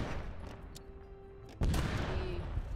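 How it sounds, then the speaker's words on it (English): Ottoman cannon fire in a battle in Age of Empires III: scattered distant gunfire pops give way to a heavy booming blast midway, followed by a sustained rumble of combat. "Make some cannon go boom."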